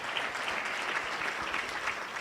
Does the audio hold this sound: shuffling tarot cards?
no